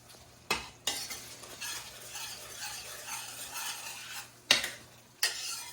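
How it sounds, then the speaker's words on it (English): Peppers and celery sizzling in a pan for shrimp and grits, a soft steady frying hiss broken by several sharp clinks of a utensil stirring against the pan, with no talking. "just to allow my peppers and the celery to have a little bit of time to simmer down."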